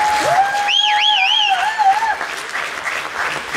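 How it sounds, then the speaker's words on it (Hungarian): Audience applause fills the hall at the results ceremony of a singing contest final in Vác, 2021, a steady wash of clapping with sliding whistle-like electronic tones or feedback sweeping over the start. "Levinek, mindenkinek, Ádámnak egy nagy tapsot kérnék szépen."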